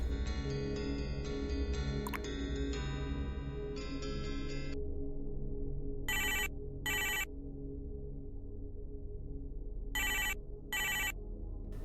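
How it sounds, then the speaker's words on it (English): A video game phone rings: a bright electronic ringtone in short repeated bursts, two pairs of rings separated by a pause, sounding over a low background music bed. "The player answers the phone"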